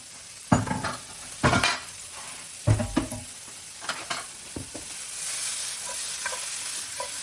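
Carrot and onion sizzle in a frying pan while a utensil scrapes and stirs, several distinct scraping strokes early on over a soft continuous hiss that settles into steady frying.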